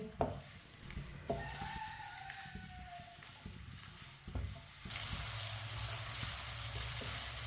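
Finely chopped onion with cinnamon and black cardamom browns in a pan. A soft sizzle runs under scattered spoon clicks and scrapes, and a steadier, louder hiss rises in the final seconds.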